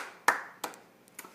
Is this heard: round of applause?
yes